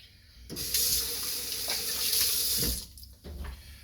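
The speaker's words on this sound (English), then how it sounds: "Give my hands another quick rinse" Hands are rinsed under a running kitchen tap, with a steady, loud splash of water that starts abruptly, continues for a few seconds, then briefly stops and resumes.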